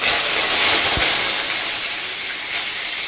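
Curry leaves dropped into hot oil with mustard seeds in a heated kadhai give a steady, loud sizzling hiss that holds for about three seconds, with one short pop near the one-second mark.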